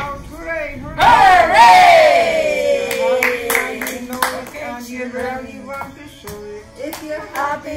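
Children shout hooray together during a nursery song, a loud group cheer that fades into clapping and more singing.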